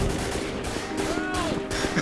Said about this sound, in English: I can't stop shooting.